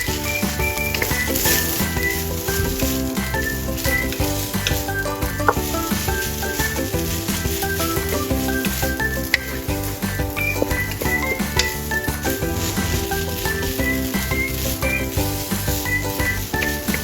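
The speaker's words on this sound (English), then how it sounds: "Add the diced carrots and stir-fry together." Steady loud sizzling of overnight rice and diced carrots stir-frying in a hot pan, with constant crackle and occasional scraping clinks of stirring throughout.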